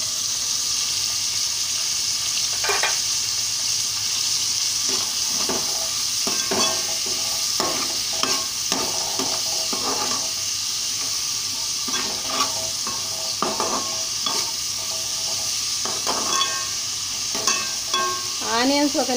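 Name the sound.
onions frying in a pan with salt and turmeric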